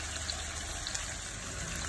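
Water is poured into a saffron, onion and salt sauce in a pan, giving a steady, close rushing gush that runs without pause and without any talk.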